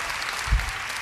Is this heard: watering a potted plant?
no